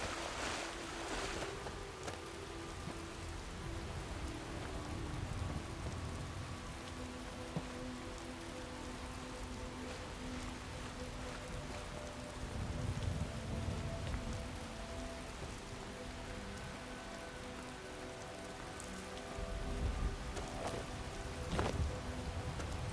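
Rain falls steadily in the open wilderness of the video game Skyrim, a continuous hiss of drops on surfaces with soft swells, moderately loud and without speech.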